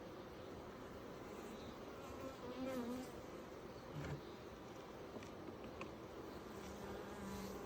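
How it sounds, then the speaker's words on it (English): Agitated bees buzz in a dense, continuous drone around hive frames in an open colony, rising in brief swells as individual insects pass near. "Quite a few bees up here, and this is where I always make them mad"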